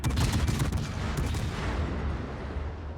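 Naval gunfire in World of Warships, shown as a dense burst of heavy booming shots that quickly fade into a long, rumbling tail of low-end reverberation.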